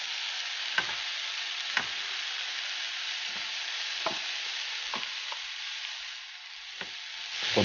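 Mushrooms, onions and peppers sautéing in butter hiss steadily in a pan, punctuated by regular soft scrapes and taps of a spatula, fairly close and moderately quiet.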